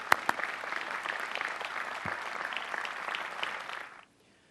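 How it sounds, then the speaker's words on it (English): Crowd of graduates and guests at the 2003 Rensselaer Polytechnic Institute commencement ceremony applauding faculty, steady dense clapping from a large audience with a couple of sharp nearby claps, stopping abruptly near the end. "May I have a round of applause for these distinguished faculty."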